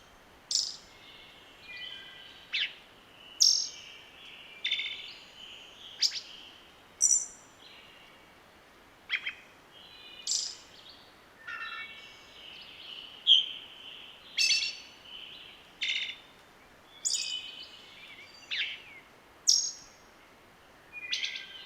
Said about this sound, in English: This bird is one of my favorites because of the trill sound at the end.